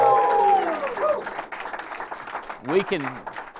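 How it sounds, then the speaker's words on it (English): A live audience at a business conference call claps briefly, the applause fading quickly as a voice talks over it. "if y'all clap for the Alliance's birth one more time"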